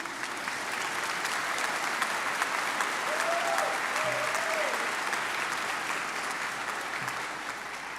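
Sustained applause from a commencement audience at a medical school graduation ceremony, a dense steady wash of clapping that carries evenly throughout, with faint background murmurs.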